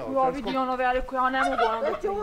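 Turkeys on a farm gobble in loud, rapid, warbling bursts that repeat through the moment, close by, with a person speaking over them.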